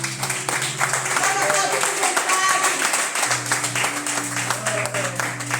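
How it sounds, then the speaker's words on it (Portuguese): Clapping fills an evangelical church service during a sermon, a continuous patter of many hands mixed with voices and sustained organ or keyboard tones underneath. "Aplauda o nome do Senhor por esta palavra"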